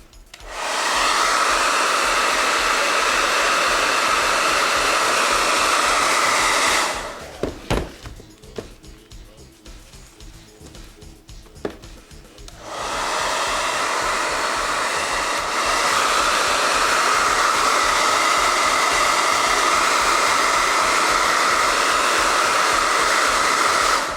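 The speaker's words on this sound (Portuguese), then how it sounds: "Para isso você pode usar um secador de cabelo." A hair dryer blows over rinsed bearings, a loud steady broadband whoosh that cuts out for several seconds, leaving faint clicks and handling noises, then starts again and runs to the end.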